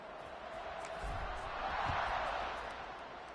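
Steady roar of a stadium crowd during a college football video game matchup against UConn, a broad sustained swell of cheering that rises and peaks midway before easing, with faint thuds underneath.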